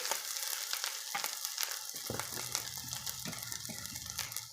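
Rice and chicken being stir-fried together in a pan for chicken fried rice, a steady sizzle with repeated scraping stir strokes, close and fairly loud throughout, with no talking.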